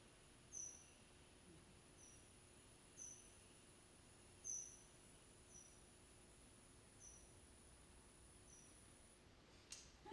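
Little brown bat echolocation calls through a bat detector: a series of short, faint high chirps repeating at an uneven pace over a quiet background, ending with a brief louder rustle.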